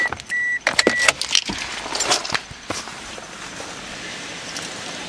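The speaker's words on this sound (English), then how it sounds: "I better turn off the car." A car is switched off after a hurricane, with a jangle of keys and a few clicks and knocks near the start, then a steady low background hiss of rain once the engine falls quiet.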